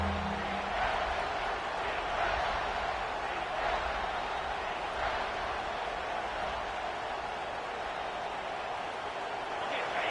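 A steady, loud wash of stadium crowd noise from the video game College Football 26 (Texas Tech vs LSU) fills the whole clip, a constant roar with no clear breaks.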